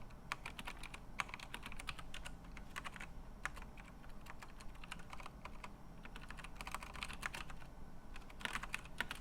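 Quiet, close clicking of fingers typing on a computer keyboard during a programming session, with irregular rapid bursts of keystrokes and short pauses, alone without talk.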